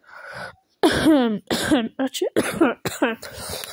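A person coughs once, short and close, then speaks in a steady run of quick phrases.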